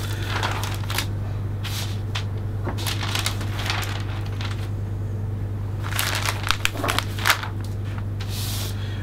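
Craft paper is folded toward the centre and crinkled while gift-wrapping a Phalaenopsis orchid, giving a steady run of close crackling and crumpling rustles, louder in bursts, under a constant low hum.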